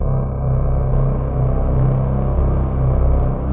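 A deep, rumbling low-pitched tone from a sampler playing a sample pitched down low, sustaining steadily for a few seconds, heavy and loud in the bass with a slight wavering pulse.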